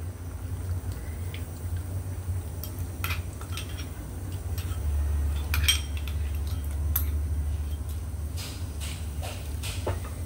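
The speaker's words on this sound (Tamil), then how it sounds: "இந்த டைம்ல இந்த நான் கழுவி வச்சிருக்கிற இறால் இதுக்குள்ள போட போறேன்" Washed prawns go into a pan with bitter gourd and are stirred. Sporadic metallic clinks and scrapes of a utensil against the pan sit over a low, steady background, with no speech.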